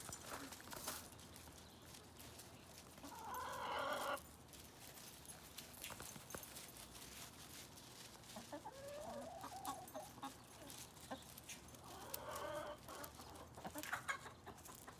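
Chickens around a garden clucking in scattered short bursts, fairly faint against a soft outdoor background.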